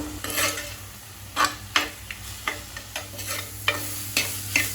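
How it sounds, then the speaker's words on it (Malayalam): Ginger fries in a pan for a sweet Kerala puli inji, a steady sizzle broken by repeated scraping stirs of a utensil against the pan, close and without speech. "ഇനി ഇത് ഇവിടെ കിടന്ന് നന്നായി മൂത്തിൻ്റെ പച്ചമണ്ണൊക്കെ ഒന്ന് മാറി വരട്ടെ"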